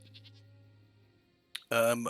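Goats bleat in the Albion Online video game, a few faint distant bleats at first, then one loud, close, wavering bleat near the end over low background hum.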